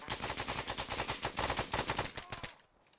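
Rapid automatic gunfire in the ACE3 Arma video game, a fast even stream of shots hitting trench cover that goes on for about two and a half seconds and then cuts off abruptly.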